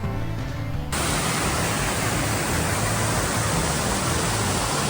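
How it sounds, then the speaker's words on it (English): Waterfalls beside a mountain bike trail near Bend, Oregon make a dense, steady rushing roar that fills the scene at close range after a brief opening moment, with no voices. "There's so many waterfalls."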